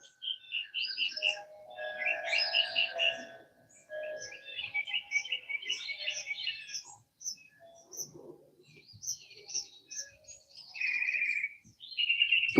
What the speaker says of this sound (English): there's no shortage of birds around here